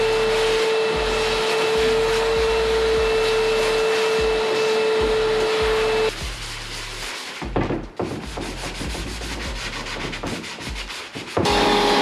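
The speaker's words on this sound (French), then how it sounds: "Allez, aspirateur." A vacuum cleaner in a garage drones steadily nearby, its motor tone shifting partway through as the suction rasps and rubs against a surface.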